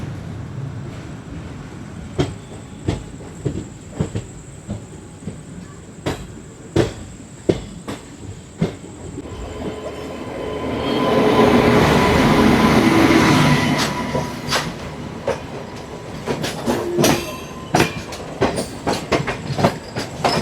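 The Charminar Express train runs near Vijayawada by the Krishna River. Heard from on board, its steady rhythmic clickety-clack of wheels over rail joints is joined midway by a louder rushing swell, then the sharp clacks return.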